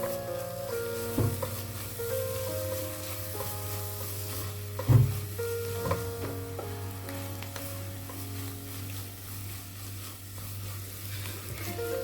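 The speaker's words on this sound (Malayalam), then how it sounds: "എല്ലാം മിക്സ് ചെയ്തതിന് ശേഷം നമുക്കിതൊന്ന് ഡ്രൈ ആക്കിയിട്ടെടുക്കാം." Chicken masala filling being stirred and dried out in a pan, giving a quiet sizzle with occasional scraping stirs and one louder knock, over a steady low hum.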